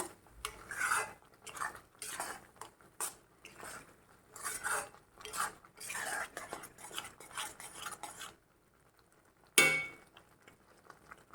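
Masala being stirred in a pan over low heat while making a restaurant-style red gravy, heard as irregular scraping and clinking of a utensil against the pan in short bursts, then a pause and one final sharp scrape.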